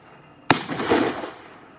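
A signal firework is launched outdoors with a sudden sharp bang. A hissing, crackling rush follows and fades over about a second, close and loud.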